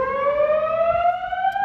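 A building fire alarm sounds during a test: a loud, steady electronic tone with strong harmonics that holds continuously and very slowly glides downward in pitch, with no voices over it.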